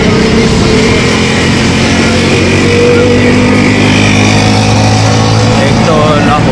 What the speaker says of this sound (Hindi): एक तो लाहौर में बहुत ज़्यादा ट्रैफिक होती है, सुबह सुबह भी बहुत ज़्यादा शोर है